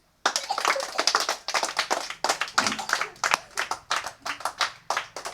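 A group of children claps together in quick rhythmic bursts, the sharp claps close and repeated in uneven waves after a brief silent start.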